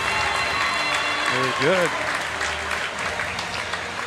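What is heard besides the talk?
audience applause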